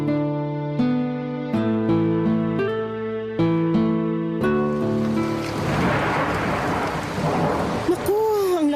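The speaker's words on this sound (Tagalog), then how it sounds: "ang lakas ng ulan sa labas ng bintana" Heavy rain pours outside a window, a dense rushing wash that swells in after a stretch of piano music and continues steadily to the end.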